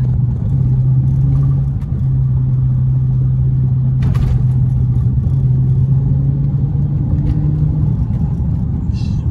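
A Dodge SRT 392 drives through a residential neighborhood, its engine a loud, steady low rumble that holds close throughout with slight rises in pitch, and no talking over it.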